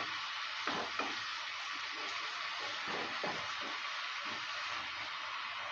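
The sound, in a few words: stirring and sizzling potato, pea and paneer curry in a pan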